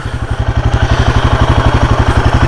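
Royal Enfield Himalayan motorcycle engine runs close and loud, with a steady, rapid single-cylinder thump pulsing evenly at a low, idle-like pace and no talking.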